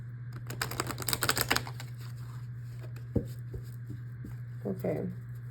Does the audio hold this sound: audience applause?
no